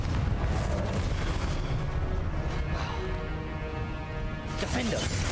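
A Confringo spell detonating in the video game Hogwarts Legacy, a dense, loud, sustained rumble of blasts and crashing debris that fills the stretch, with a brief sharper burst near the end.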